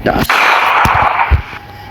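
A few sharp, punchy gunshots in the video game Granny: Chapter One, in quick succession, loud and close, with a brief burst of noise between them.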